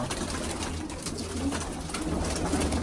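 Pigeons coo on a farm in a steady, overlapping murmur of soft low calls that runs throughout, close by and fairly loud against a constant background hum.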